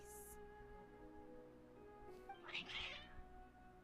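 Cats in the Genshin Impact video game let out a couple of short meows near the end, fairly faint over quiet game music.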